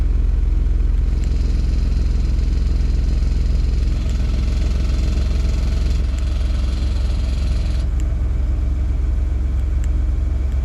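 A Ford Bronco with an XForce exhaust idles with a deep, steady low rumble while its valve closes step by step, and the sound drops slightly in level partway through.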